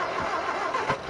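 Mk3 Ford Cortina Estate, idle for two weeks, cranks with the choke on: a quick burst of starter churning and a catching engine, close and fairly loud.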